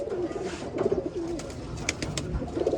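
Pigeons in a loft, including Sapchila pigeons, coo in low repeated bursts, close by, with wing flutters and faint background chatter.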